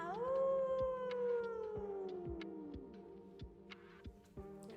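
A human voice imitates a wolf howl, sliding in one long tone from an open vowel down to a narrow oo, steady and fairly quiet, then trailing off with faint clicks and breaths.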